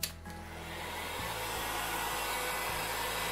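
A heat gun dries fresh paint on a contact-paper sign, a steady close blowing whoosh with a motor hum that runs without a break throughout.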